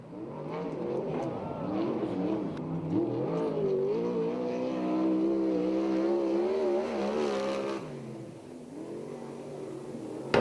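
USAC/CRA sprint car lapping Perris speedway, its engine a loud sustained whine rising and falling through the turns, with other cars droning behind and an announcer talking over it.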